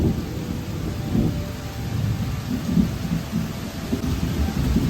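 Heavy monsoon rain pours down steadily with a low, rolling thunder rumble underneath, a continuous dense roar with no voices.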